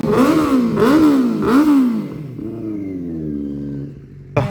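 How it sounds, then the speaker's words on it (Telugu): A Suzuki Hayabusa motorcycle engine fires up and revs three times in quick rising-and-falling sweeps, then drops to a lower, steadier idle before a sharp burst at the end, heard close and loud. "let's start హయాబుజా"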